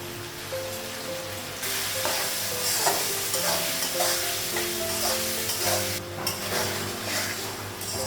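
Eggplant fries and sizzles in a pan, stirred with cumin powder and turmeric in a home kitchen, a steady sizzle over music with scraping stirs throughout.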